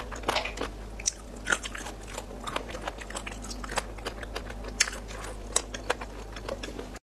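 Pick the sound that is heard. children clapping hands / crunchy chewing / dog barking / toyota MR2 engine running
crunchy chewing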